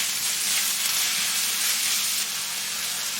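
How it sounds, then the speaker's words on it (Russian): Apple and grated carrot for borscht fry over high heat while being stirred, giving a steady, close, dense sizzle and hiss with no pauses. "Все это обжариваем где-то около 2 минут. На высокой температуре помешивая."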